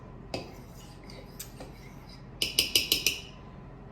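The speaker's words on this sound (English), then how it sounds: "I'm going to mix these dry ingredients until they are well incorporated" A fork clinks against a bowl while dry scone ingredients are stirred together, light metallic taps scattered at first, then a quick run of five sharp clicks close by, with no talk.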